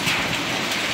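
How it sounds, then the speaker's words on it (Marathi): Hailstorm with rain and strong wind in Chandwad town, a dense, steady hiss of falling rain and ice close by, loud and continuous with no talking. "तुफान गारपीट चालू आहे चांदवड शहरामध्ये"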